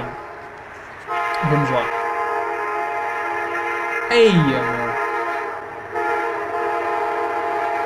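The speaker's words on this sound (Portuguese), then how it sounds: "Ok, é um comboio. Um trem." A train passing a level crossing sounds its horn in long sustained blasts with wheel and rail noise, loud and near, while people talk over it.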